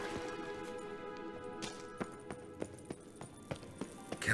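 Horse hooves clip-clopping in The Witcher 3, a kelpie horse stepping in a regular, fairly close rhythm of distinct thuds that grows denser toward the end, over a quiet ambient background.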